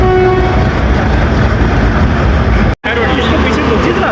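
A diesel locomotive, PHA 28307, at a station where the Hazara Express is standing. Its loud, steady engine rumble runs throughout with a horn-like tone, and a voice speaks over it.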